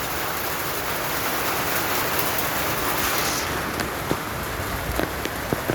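Steady rain falls in Tocoa, Honduras, a dense even hiss of drops on surfaces throughout, with a few sharper drips standing out near the end; no one speaks.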